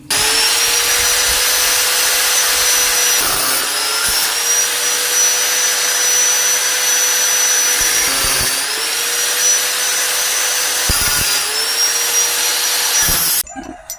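A power tool cuts through a steel Y wrench in a workshop, making a loud sustained grinding whine with a few brief dips before it stops abruptly, with no talking.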